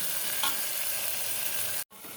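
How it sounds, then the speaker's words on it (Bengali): Loud, continuous sizzling of red lentils and potatoes frying in a pan fills the clip, cutting out abruptly for an instant near the end before resuming. "আলুটাও দিয়ে দিলাম, এটা একটু ভাজা ভাজা হবে"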